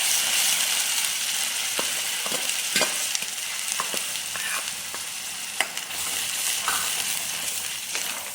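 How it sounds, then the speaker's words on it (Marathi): Misal tarri masala frying steadily in hot oil, with a continuous loud sizzle broken by occasional clicks and scrapes of stirring. "मसाल्यांना सगळं तेल सुटेपर्यंत आपल्याला भाजून घ्यायचं आहे।"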